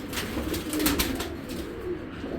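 Female Giribaj pigeons in a cage, with repeated soft low cooing close by, interspersed with brief flutters and rustles, no talk.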